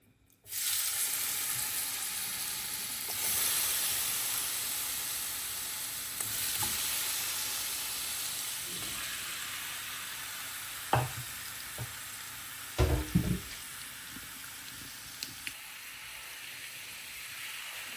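Shrimp frying in coconut oil in a frying pan for a shrimp roast, a steady loud sizzle throughout, with a few sharp clinks and stirring knocks toward the end.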